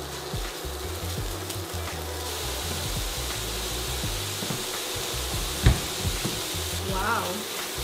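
Bacon frying in a pan: a steady, even sizzle runs throughout with a few faint clicks and scrapes near the end, no voices over it.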